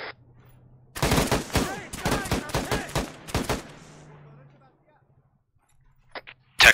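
Gunfire in Arma 3: a loud, close burst of rapid automatic shots in an uneven rhythm, which trails off into echo and quiet, then a few more sharp cracks at the end.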